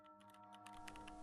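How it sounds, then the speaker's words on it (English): Computer keyboard typing in a quiet room, a quick run of soft key clicks over a low steady hum, close and fairly faint with no voices. "Keyboard sounds, then a cold voice spoke."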